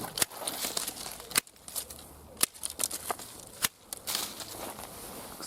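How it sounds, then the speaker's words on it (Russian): Rose shoots being pruned with hand shears in an autumn garden: a series of sharp, close snips at irregular intervals over quiet outdoor background rustle. "Сначала я обрезаю все побеги."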